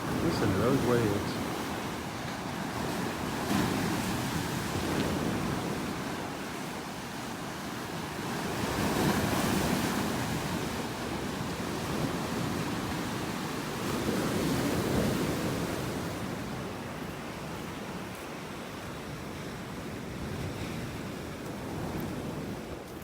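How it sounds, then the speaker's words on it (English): Ocean waves wash onto a beach in North Naples, Florida, with broad swells of surf rising and falling every few seconds under steady wind noise on the microphone. "Listen to those waves."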